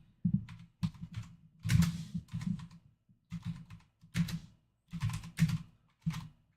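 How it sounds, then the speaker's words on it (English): Bursts of fast typing on a computer keyboard, close and moderately loud, coming in irregular clusters of clicking keystrokes separated by brief pauses. "my typing's terrible like this"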